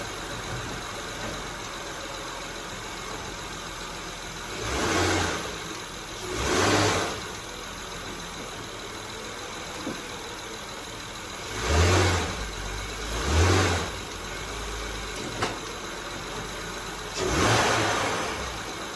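2003–2007 Honda Accord engine idling steadily after a motor mount install, with several separate blips of the throttle. Each rev swells briefly and falls back to idle, and the engine is heard alone with no talk.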